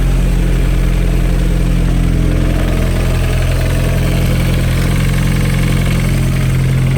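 An Audi TT engine idles loudly and steadily at close range, a continuous low rumble with a slightly uneven beat throughout and no talking.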